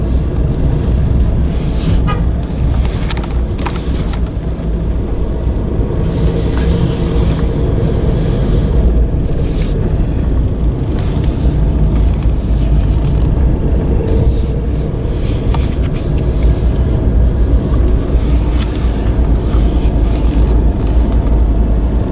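Big lorry driving through a narrow street in a small French town, a loud, continuous engine rumble with heavy low-end roar lasting throughout, close by and with no talk.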